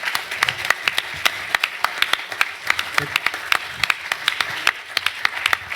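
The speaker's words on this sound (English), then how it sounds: "That is really warm applause." Warm audience applause at a civic forum on city growth, a mix of scattered sharp claps over a murmuring crowd, with some voices talking underneath.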